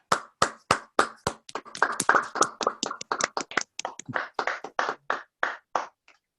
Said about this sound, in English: please go ahead and give a round of applause to our facilitator